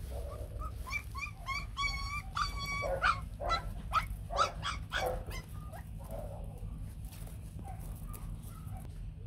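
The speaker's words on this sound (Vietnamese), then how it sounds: "Chó mẹ và ba chó con Bắc Hà Xù Trắng." White fluffy Bac Ha dogs, a mother and three puppies, with high puppy whimpers and yips followed by a few sharp barks, heard outdoors over a steady low rumble.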